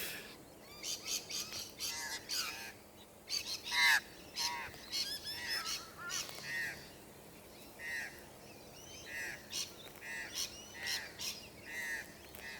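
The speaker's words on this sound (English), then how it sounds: "So many birds." A large flock of geese honks in repeated, overlapping calls that rise and fall in bursts, fairly close and loud, with other birds chirping in the mix and no talking.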